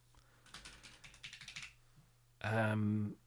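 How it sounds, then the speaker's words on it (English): Small, illuminated tactile buttons on a Kodamo MASK1 EX Mk.2 synthesizer are pressed in a quick run of light clicks, then a short sustained synth tone sounds, with no talking. "the nice kind of clicky keys that are very, very similar to the ones used on the keyboard itself"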